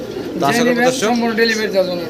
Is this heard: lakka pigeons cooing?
yes